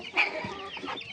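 Decorative yakagama chickens cluck close by, a short burst of a few squawky clucks followed by quieter fowl chatter, with no one talking.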